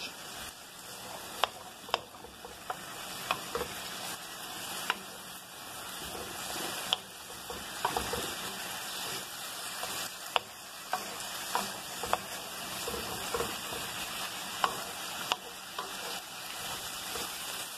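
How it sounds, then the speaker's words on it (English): Yakisoba noodles with asparagus and mushrooms fast-fried in a wok, a steady loud sizzle broken by frequent scraping and tapping of the utensil as the food is stirred and tossed. "So doing a fast fry"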